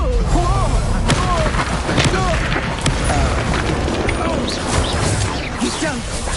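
Confringo blasting spells explode in the wizarding game Hogwarts Legacy, loud repeated booms and crashes layered over a dense battle din, with a voice calling out over the fighting.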